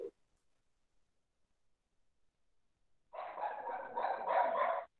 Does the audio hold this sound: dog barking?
yes